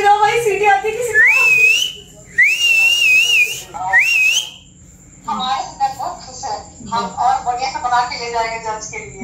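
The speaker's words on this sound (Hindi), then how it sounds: "सीटी बजाओ भाई, सीटी आती किसी को?" Human whistling at a family celebration, with several rising, warbling whistled phrases followed by lively voices talking and cheering.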